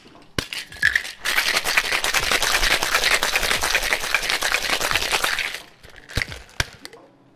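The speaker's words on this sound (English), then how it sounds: "Fill that Boston glass with some ice, give it a shake" Cocktail shaken hard with ice in a Boston glass shaker: a loud, steady rattle of ice lasting about five seconds, framed by a few sharp knocks and clinks before and after.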